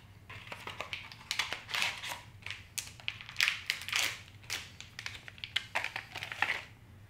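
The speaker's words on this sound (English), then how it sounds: "So let me take it out of the packaging first." A brand-new Epson 802 cyan ink cartridge being pulled from its plastic packaging, with a string of faint, close crinkles, taps and rustles in irregular bursts.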